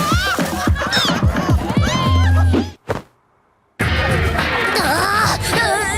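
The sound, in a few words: pigeons making noise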